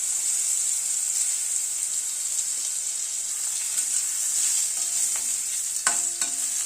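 Potato pieces stirred in a hot pan with fenugreek seeds, a steady bright sizzle and hiss running throughout, with a few scraping spoon knocks near the end, close up and with no voices.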